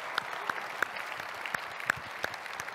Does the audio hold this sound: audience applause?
yes